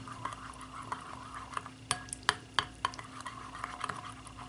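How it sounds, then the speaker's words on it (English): Homemade alcohol-free hand sanitizer mixture being stirred in a container, with light clinks and taps of a utensil against the sides, irregular and close over a quiet hum. "Just stir it."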